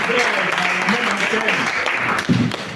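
Applause from a church congregation during a Sunday celebration service, a steady dense wash of clapping held throughout with a voice over it.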